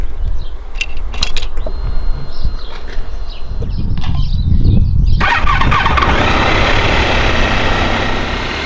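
A 2004 Honda Pan European ST1300 touring motorcycle engine cranks and fires up partway through, then runs with a steady rumbling idle close by, after some clicks and handling noises.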